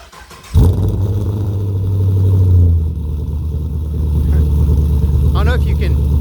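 Cold start of a 2013 Chevrolet Camaro SS convertible fitted with a Borla S-Type exhaust: a sharp crank and loud roaring flare, then a deep, throaty high idle rumbling steadily up close.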